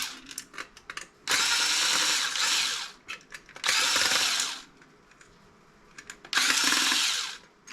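A power tool drives out screws while an HP CRT monitor is taken apart for scrap: three long, loud whirring bursts with short pauses, small clicks and handling noises between them.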